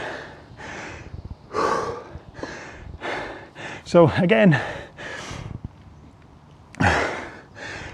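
Heavy, gasping breaths and snorting exhales right after a hard indoor rowing machine workout, close and loud in repeated bursts, with brief talk between them.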